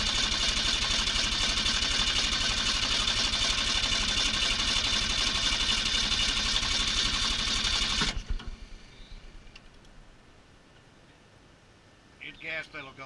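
A 1965 Ford Fairlane V8, fitted with a new carburetor, runs loud and steady for about eight seconds and then cuts off abruptly, leaving a quiet garage with faint clicks and a brief voice near the end.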